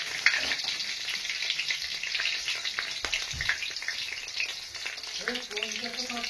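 Cinnamon, cardamom, green chili and ginger sizzle in hot frying oil, a bright crackling hiss that holds steady throughout, with a voice coming in briefly near the end.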